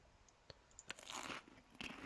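Several crisp crunching bites of plant stalks in The Long Dark video game, spaced irregularly with short pauses between them, close and fairly quiet.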